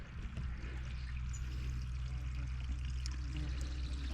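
Water rushes steadily into a pool filter pump being installed, a continuous, soft, even pouring and gurgling flow throughout with no speech.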